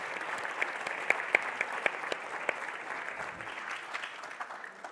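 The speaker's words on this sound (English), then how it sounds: "One more big round of applause for our final speakers today." Steady applause from a conference audience honouring the final speakers of the day, a dense patter of clapping heard from some distance at moderate-low level, with a few sharper individual claps standing out.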